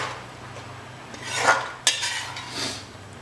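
Mutton korma masala roasting and being stirred in ghee, with soft scraping of a spoon against the pot, a sharp metallic clink near the middle, and a faint sizzle underneath.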